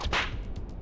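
Whip crack from the Catwoman video game, a sharp snap near the start followed by a few faint flicking echoes, with no talk.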